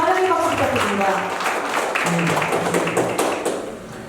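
Dense, steady welcoming applause fills the room at a tourism association general meeting, with many hands clapping together and a voice speaking at the start before the clapping thins out.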